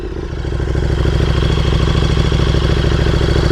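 A flashed KTM Super Duke R or Aprilia RSV4 motorcycle with its exhaust valve held fully open runs loud and close, a raw, steady engine note with rapid firing pulses.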